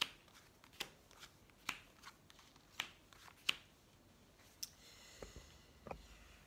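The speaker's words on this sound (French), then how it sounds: "Allez, on va faire le tirage en 9 cartes." Tarot cards being shuffled and laid out for a nine-card spread, heard as a steady series of soft, crisp flicks and slaps at close range, with no talking.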